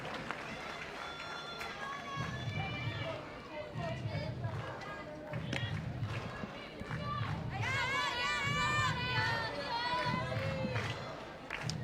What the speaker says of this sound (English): Very good crowd here on this Saturday afternoon.